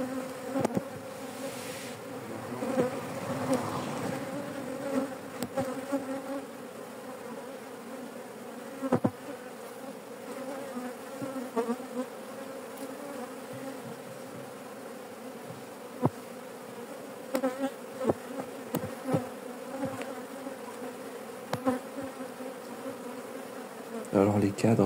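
Honeybees drone steadily at a beehive that has recently swarmed, a continuous close buzz lasting throughout with occasional louder passes of individual bees.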